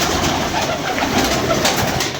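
Pigeons cooing continuously at a rooftop loft, a loud, close, dense wash of overlapping bird calls with no clear pauses and no voices.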